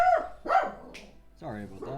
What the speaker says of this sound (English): That was my dog shouting at...